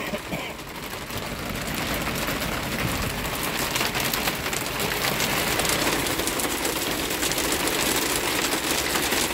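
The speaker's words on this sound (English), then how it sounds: "Is that hail? I think it's hailing." Hail comes down in a dense, continuous clatter of pellets striking surfaces, a loud and even wash of hard patter that keeps going without letup and with no voices.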